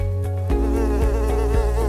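Flies buzz continuously inside a bottle, close and fairly loud, with a steady droning whine that shifts slightly in pitch as they move around.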